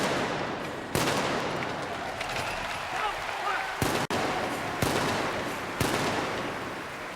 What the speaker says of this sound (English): each of the guns fires 3 rounds